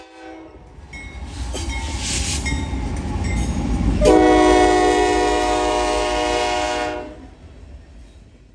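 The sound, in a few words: freight train led by NS AC44C6M and UP SD70AH locomotives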